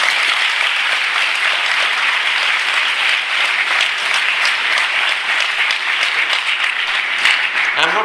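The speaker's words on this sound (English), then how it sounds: "Give her a clap." Students in a Kasthurba school classroom in Kannur clap for a young girl, a steady, dense round of close applause filling all eight seconds without a break.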